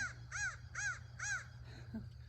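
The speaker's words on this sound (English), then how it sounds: "A very angry crow." An agitated crow caws outdoors in four loud, harsh, evenly spaced calls over a low steady hum, followed by a fainter trailing note.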